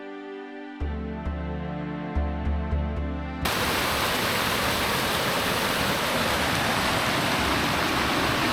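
The Nant Melyn waterfall roars as a steady, dense rush of falling water, loud and close, filling the air without pause after an opening stretch of soft musical tones.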